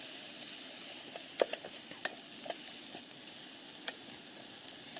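Garlic sizzling and lightly browning in a pan at a Southeast Alaska creek, a steady soft hiss with scattered small pops and crackles, close but fairly quiet, with no voices.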